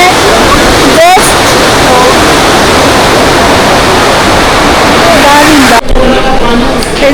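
Loud, steady roar of a fast river current rushing past the Gurudwara Sahib at Manikaran, where hot springs feed the water, filling the whole stretch up close with a brief voice breaking in over it.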